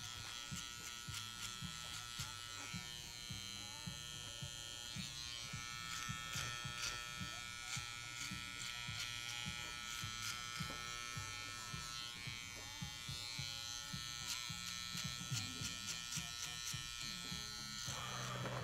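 A Wahl Magic Clip electric clipper trims a beard, giving a steady loud buzz for the whole stretch with small rises and dips in pitch as it moves through the hair, no talking.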